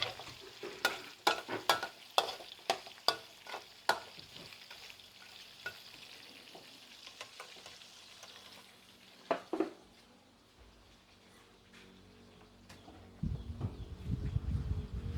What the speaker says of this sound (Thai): คุมพันใช้ไฟกลางนะคะ ใช้ไฟกลางในการทอด